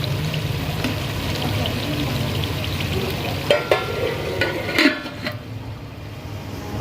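Okra (bhindi) cooks in a pan with spices and chopped green coriander, giving a steady close sizzle broken by a few sharp clinks and scrapes of stirring near the end.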